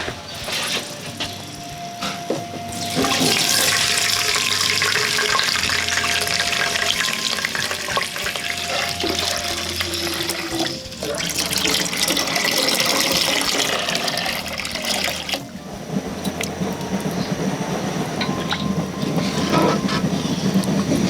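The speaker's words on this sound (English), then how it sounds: "Right, now I'm going to add in some water." Steady rushing pour of water into a pot of frying spices for biryani, a continuous splashing flow over faint sizzling, loud and close, with brief pauses between pours.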